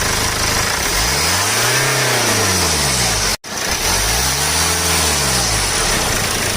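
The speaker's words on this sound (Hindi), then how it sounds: "तो करते हैं इस कार को स्टार्ट करके एक्सीलेटर लगा जरा।" A BMW 320d diesel engine, just repaired after an intake manifold leak, revs up twice in rising and falling sweeps, loud and close with a steady mechanical hum and a brief cut between the two revs.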